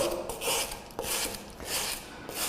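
Hand file rasping back and forth across a workpiece, a series of close, scratchy strokes in uneven rhythm with brief pauses between passes.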